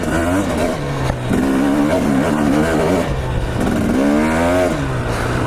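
A dirt bike engine labors up a trail climb in second gear, its note rising and falling in loud, close surges as the throttle is worked over rough terrain.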